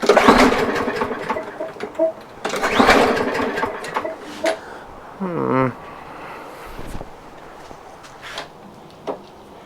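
A small engine with a possible fuel problem runs roughly in uneven bursts, sputtering and surging loudly before dying back to a quieter idle and faint knocks, with no voices.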